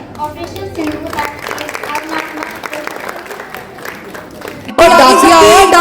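An audience at a Republic Day celebration claps steadily to welcome an Operation Sindoor performance, with voices over it, before loud music abruptly takes over near the end.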